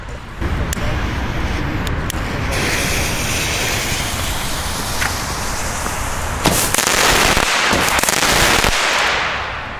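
Wrecking Shot fireworks by Lesli going off at a New Year's Eve celebration: sharp cracks and booms over a dense, noisy rumble, with a louder burst of blasts near the end.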